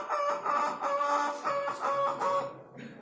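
A man vocally imitates a hen searching for a spot to lay an egg, producing a loud, close, repeated run of drawn-out clucking calls in steady pulses with no other voices.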